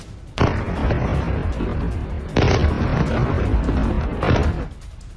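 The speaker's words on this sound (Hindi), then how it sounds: "भीषण विस्फोट से ये बिल्डिंग ध्वस्त हो गई।" A bunker buster bomb blast tears through and destroys a building, heard as three heavy, loud broadband booms about two seconds apart, each followed by sustained roaring rumble.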